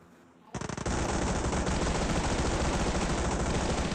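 PUBG gameplay gunfire starts with a few rapid shots and then becomes a loud, continuous automatic burst that runs unbroken to the end.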